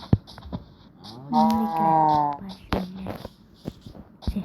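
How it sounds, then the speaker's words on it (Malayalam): A cow gives one drawn-out moo outdoors, loud and fairly close, with scattered clicks and rustling handling noises before and after. "പശു"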